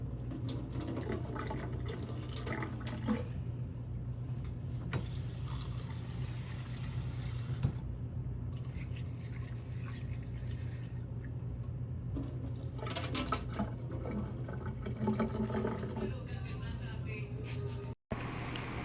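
A kitchen tap runs steadily while vegetables are washed, with water splashing and bursts of rinsing over a low hum, and a person talks quietly in places.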